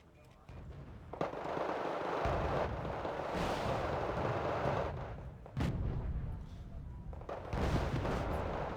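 Bombing runs in the real-time strategy game Wargame Red Dragon boom as sustained rumbling explosions with sharp blasts, loud and continuous, while a commentator talks over them.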